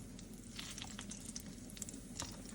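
King oyster (eryngii) mushrooms sizzle steadily in a preheated frying pan, a close, continuous crackle with small pops and no talking.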